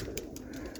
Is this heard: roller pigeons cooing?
yes